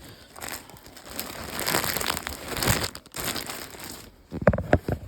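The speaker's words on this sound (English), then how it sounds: "then we should be done with the crinkling" Plastic packaging crinkles and crushes while yarn stash bins are unpacked, a continuous rustling with louder bursts in the middle and sharp crackles near the end, close and with no talking.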